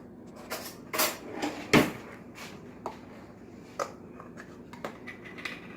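Rummaging in a kitchen drawer for a spoon: a string of close clattering knocks and metallic clinks, with a few sharper rattles early on and lighter taps after, no speech.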